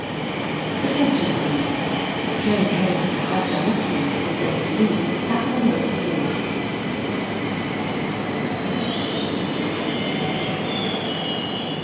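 Inside the LRT Jabodebek light rail train near Jakarta, a continuous rumble of wheels on track rolls on with high squealing from the rails, steady and close throughout.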